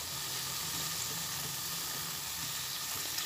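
Cabbage kalia cooking in a pan after garam masala goes in, a continuous close sizzle and hiss with faint stirring scrapes beneath, steady and unbroken, no voices.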